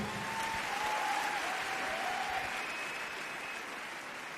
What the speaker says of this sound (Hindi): प्लीज जोरदार ताली।